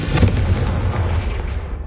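A Confringo fire spell explosion in Hogwarts Legacy, one loud close boom with a rumbling low tail that fades out over about two seconds.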